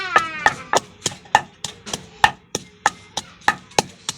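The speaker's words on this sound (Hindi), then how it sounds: "देखिए थूम हुई अदरक हुई ये जी देखें कूट रहे हैं" Garlic and ginger pounded in a mortar: about a dozen sharp, evenly spaced thuds in steady rhythm, close and fairly loud, with no talking.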